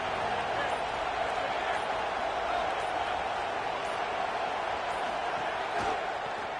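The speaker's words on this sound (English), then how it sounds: "This crowd ready to make its presence known." A football stadium crowd roars in a continuous, distant wash of cheering and noise, steady throughout with no single voice standing out.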